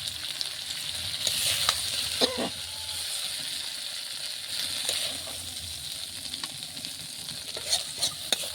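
Rohu fish frying in a spice masala of cumin, garlic, onion, chilli, turmeric and salt, a steady close sizzle with scattered spatula clicks and stirring scrapes, no speech.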